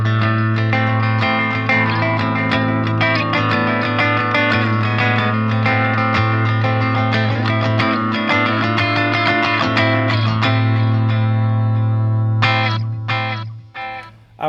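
Electric guitar notes through a Fender Champion 50XL amp repeat in rhythmic echoes from a delay effect over a steady sustained low tone, ringing on and then trailing off.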